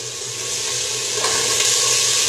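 White green-onion bases and ordinary onions fry in a pan for a sweet and sour vegetable pickle, giving a steady, close, continuous sizzle that grows slightly louder.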